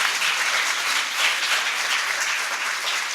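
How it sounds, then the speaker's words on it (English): Sustained round of applause from an audience at the Hallam Award 2014 ceremony, steady dense clapping throughout with no talking. "huge round of applause."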